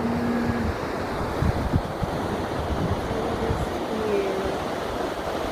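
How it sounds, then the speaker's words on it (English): Ocean waves wash in by the pier at Daytona Beach Shores, a steady broadband surf hiss mixed with wind buffeting the microphone, moderately loud and continuous with no talking. "How nice the ocean waves"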